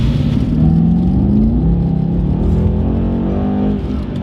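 A 2019 Mercedes C63-S accelerates hard with its wheels spinning, the engine roaring loud and close as it rises through the gears in one continuous pull, with no talk over it.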